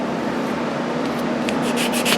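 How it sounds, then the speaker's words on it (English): Steady abrasive rubbing of a sanding block against the wooden bevel of a Native American flute mouthpiece, close and continuous, growing slightly brighter and scratchier toward the end. "See how I'm cutting that bevel off?"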